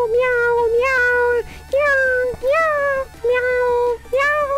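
A person imitates a cat, giving a run of loud, drawn-out meows one after another, close up and with no other talk around them.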